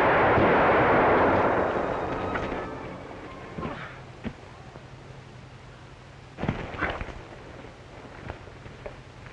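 A gunshot in a Western film set in the Northwest with a Mountie: one loud, booming report that opens the clip and rolls away slowly, followed by faint scattered knocks and shuffles.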